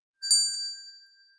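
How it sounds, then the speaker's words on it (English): A single clear debate timer bell dings once, a bright metallic strike that rings out and slowly decays in silence. "you will hear a bell after 1 minute has passed"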